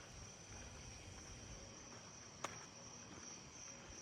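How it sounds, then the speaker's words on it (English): Columbian trig crickets chirping at night, a continuous high, thin ringing drone held steady and fairly faint throughout, with one brief click partway through. "I hear Colombian trigs."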